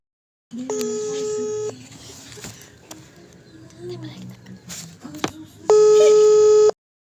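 A telephone call is placed: two loud, steady electronic line tones, one near the start and one near the end, with quieter voices and room noise in between.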